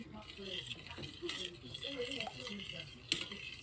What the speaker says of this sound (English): we're gonna stir it with the same spoon with the honey